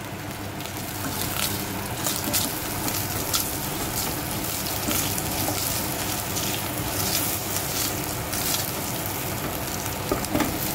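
Chopped onions fry in a hot pan with a loud, steady, dense sizzle that carries on without a break. Faint stirring can be heard close up, and no one speaks.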